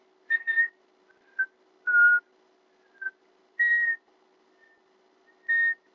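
A simple whistled melody resembling Mary Had a Little Lamb in a VR game: six short, clear tones spaced apart, each note sounded carefully and alone over a faint steady hum.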